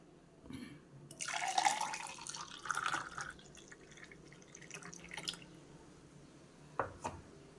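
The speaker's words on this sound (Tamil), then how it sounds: "இப்போ கிளாஸில் ஊற்றிக்கலாங்க." Ground amla juice mixed with water poured into a glass, with close liquid splashes and trickles, a brief busier stretch of pouring, then quieter drips and a couple of sharp clinks near the end.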